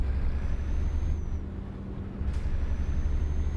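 A truck setting off in Euro Truck Simulator 2, a low steady diesel rumble with a sharp air-brake hiss releasing midway.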